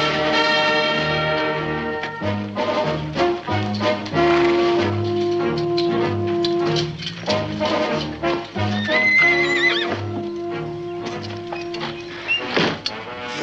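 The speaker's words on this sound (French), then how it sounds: "Voyez, mon commandant, un cheval scellé et fin prêt." A saddled horse whinnies amid orchestral music in a 1950s Zorro television episode, with hooves and a door-like creak mixed into the busy soundtrack.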